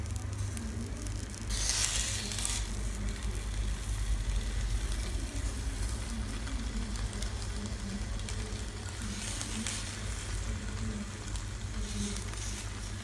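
Sardines frying on a banana leaf in a hot pan give a steady, close sizzle that runs the whole time with a few louder bursts, and no voices.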